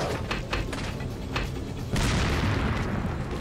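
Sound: dynamite explosion in the video game Resident Evil 4

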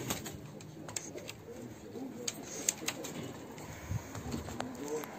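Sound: pigeons cooing in a pigeon loft

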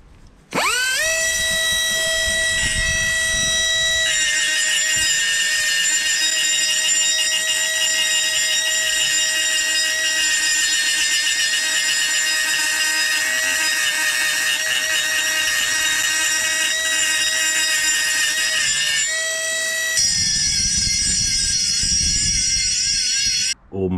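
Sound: grinding and rounding edges of a VW Golf 2 cylinder head

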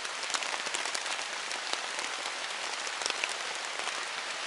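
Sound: rain falling

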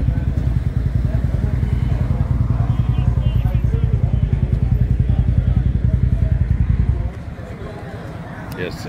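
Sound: Harley motorcycle engine at bike night

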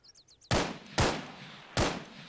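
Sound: gunshots in the video game Arma 3

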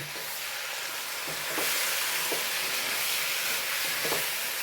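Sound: stirring jackfruit biryani masala in a pan

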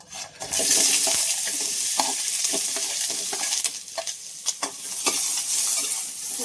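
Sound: onion frying in hot oil

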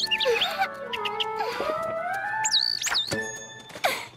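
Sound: bird chirping at a girl asking for food

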